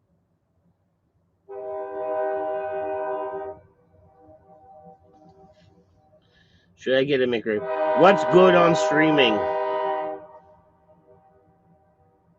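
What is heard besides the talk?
passing train with horn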